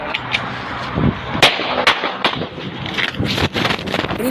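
Sharp, loud gunshots ring out at irregular intervals, several cracks in a row over a noisy outdoor background along a highway in Calamba, Laguna, with no talking.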